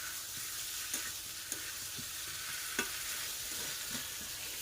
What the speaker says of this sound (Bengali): এদিকে মাংস আর আলু একসাথে আবারও কষাই করছি